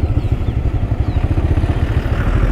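A motorcycle engine on a long ride out of the valley thrums close and loud with a rapid, even low pulsing, steady throughout under a light wind rush.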